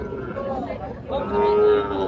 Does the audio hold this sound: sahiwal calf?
yes